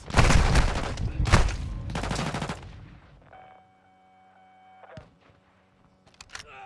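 Rapid bursts of automatic gunfire erupt in Call of Duty MW2 combat, loud and dense for about two and a half seconds, then fading into quieter hum and beeps with a few sharp shots near the end.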